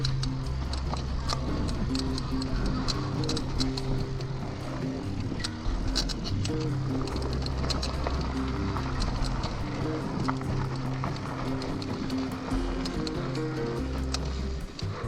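An e-bike rides along a rough motorcycle trail, its electric motor whining in steady, shifting tones over constant rattling and crunching from the terrain.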